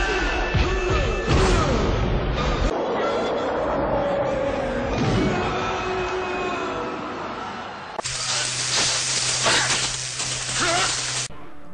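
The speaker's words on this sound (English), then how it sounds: "Crashing into trees and boulders at 60 miles per hour must be nothing" Sega CD racing game crash effects as a car slams into trees and boulders, loud cluttered smashing and thudding bursts with digitized noise and a sudden shift to a harsher, brighter crash section near the end.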